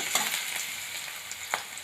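Soft crackling sizzle of dried chilies frying in hot oil, steady and close, with a few sharper pops and a light stirring scrape.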